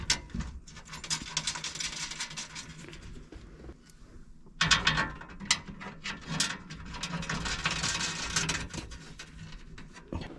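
Bolts on a Toyota 4Runner interior cargo rack are driven with a ratchet, giving bursts of quick metallic clicking and clatter close by with a short pause in between.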